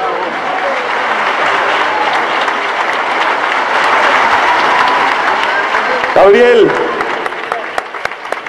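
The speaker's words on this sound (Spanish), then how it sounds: "fuerte aplauso para ellos" Sustained, loud applause and crowd noise from a concert audience in Córdoba cheering an orchestra, thick and continuous, with a voice briefly calling out a name over it near the end.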